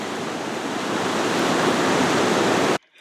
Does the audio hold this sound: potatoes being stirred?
no